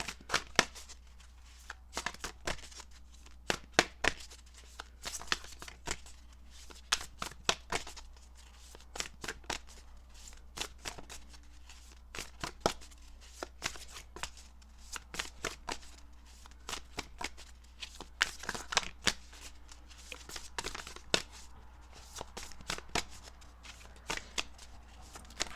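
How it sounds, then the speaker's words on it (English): Tarot cards shuffled for a reading, a rapid series of crisp riffling clicks and slaps repeating close up throughout with no talk. "One card for Gemini moon."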